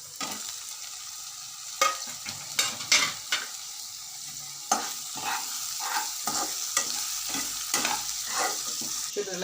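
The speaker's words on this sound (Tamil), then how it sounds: "தக்காளியை போட்டு வதக்கணும்" Tomatoes sautéing in a pan for a traditional Tamil egg gravy thokku, with a steady sizzle under repeated scraping stirs of a spoon against the pan and no talking.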